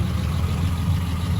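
A 1962 Ford Fairlane, all original with a custom exhaust, idles after a cold start, a steady low rumbling burble close up with no talk.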